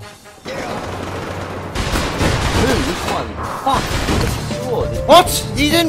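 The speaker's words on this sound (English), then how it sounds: "the guy just fired a shotgun like bang bang" Shotgun blasts in a video game, heard as loud, sharp bursts of gunfire amid chaotic in-game noise, with one especially loud blast near the end.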